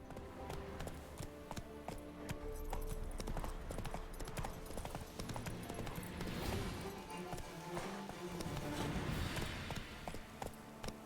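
Roach the horse gallops in The Witcher 3, with a steady, close clip-clop of hooves running on over a busy bed of game music and ambience throughout.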